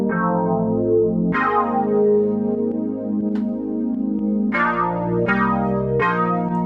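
Prophet synth plugin layer with heavy wet effects playing sustained chords, with bright attacks marking each chord change, steady and full with no speech.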